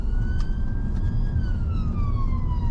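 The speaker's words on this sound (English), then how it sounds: "Can hear the siren cadence." A UK ambulance siren sounds continuously and loudly, its wailing tone sweeping slowly in pitch over a steady rumble of road and engine noise as the vehicle moves swiftly.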